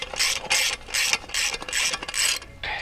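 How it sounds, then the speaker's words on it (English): An impact wrench tightens a flare nut on the refrigerant line of a MrCool mini-split heat pump in close, loud, rapid rattling bursts, about seven in quick succession. "Oh, we have an impact wrench. Need to be able to tighten it so that it pulls."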